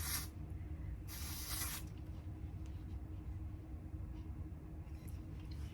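Aerosol hairspray hisses onto short pixie-cut hair in two bursts, close and bright, over a steady low background rumble.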